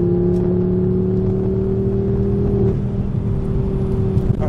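Ford Focus ST225 Mk2 accelerating on a test circuit ring, a steady close engine drone and whir with a tone that holds and then shifts, without voices.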